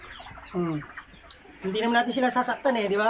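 Chickens on a farm that also raises turkeys give a few short, close clucks in quick bursts while someone talks quietly nearby.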